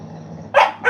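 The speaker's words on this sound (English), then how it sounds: "Both of the dogs is like, it's growling at each other." Two dogs bark sharply at each other in two loud bursts over a low background hum, following a quieter stretch of rumbling growl.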